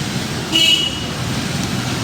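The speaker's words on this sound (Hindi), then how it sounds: "ट्रैफिक अच्छा जा रहा है।" Road traffic with cars and auto-rickshaws passing on a cold-weather street gives a steady loud rumble, with a short horn toot cutting through partway.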